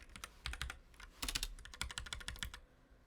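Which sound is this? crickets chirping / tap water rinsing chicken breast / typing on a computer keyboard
typing on a computer keyboard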